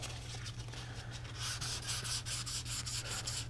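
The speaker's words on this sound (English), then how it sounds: "So now I'm going to take the 400 grit just for kicks." An Atari logo joystick being sanded by hand with fine 400 grit sandpaper: a soft, steady scratchy rubbing in repeated back-and-forth strokes, close and quiet, over a low constant hum.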